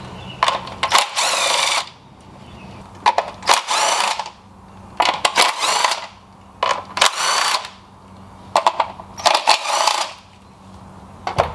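A power tool whirs in repeated bursts, backing out the 10mm screws that hold the valve cover on a Honda Accord K24 engine, with short clicks and metallic clinks between runs, close and loud.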